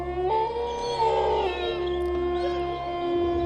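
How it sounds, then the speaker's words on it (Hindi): A dog cries and howls in a long, wavering, sustained tone that rises and falls, loud and close with no other sounds around it. "तभी अचानक उन्हें एक रोते हुए कुत्ते की आवाज़ आई।"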